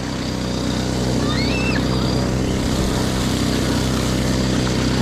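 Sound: boat engine revving

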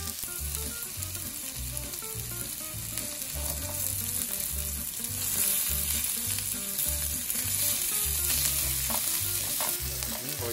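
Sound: butter melting and sizzling in pan with sliced mushrooms

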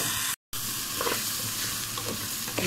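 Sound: rice grains frying in a pot

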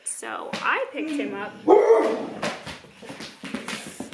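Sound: dogs barking

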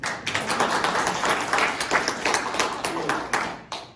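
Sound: audience clapping

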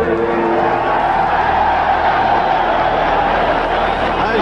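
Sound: boxing crowd cheering for Alan Minter

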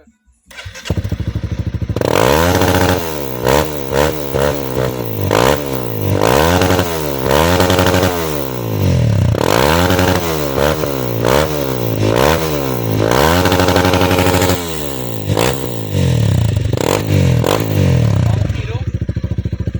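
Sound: Honda CRF300L motorcycle engine revving after tuning

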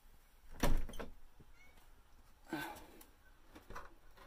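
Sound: cat meowing at the door

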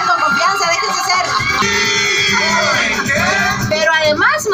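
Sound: studio audience shouting and cheering

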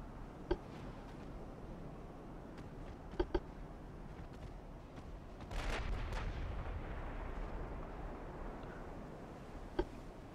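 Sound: torpedo hit on a warship, from the video game Ultimate Admiral: Dreadnoughts

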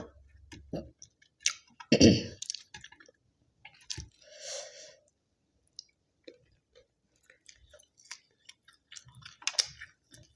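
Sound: eating khanom jeen with coconut curry

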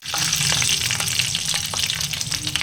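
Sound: sautéing curry leaves and garlic in a pan

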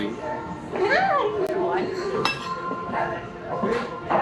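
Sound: knife and fork clinking while eating Chicago deep dish pizza

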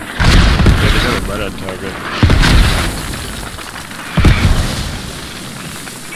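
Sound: mortar strike explosions in the video game Squad

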